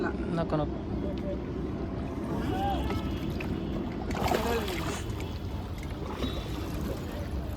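A shikara boat moves across Dal Lake in Srinagar, Kashmir, with a low, steady rumble and gusty wind noise, while people talk in the background.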